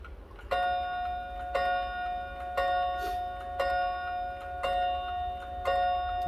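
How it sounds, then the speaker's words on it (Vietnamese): A mechanical clock chime strikes two red copper gongs, giving six evenly spaced, ringing metallic strikes with long sustained tones that overlap as each note decays, heard clearly and alone. "sẽ test tiếng chuông."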